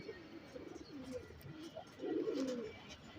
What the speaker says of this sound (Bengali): এটাও গেমের কবুতর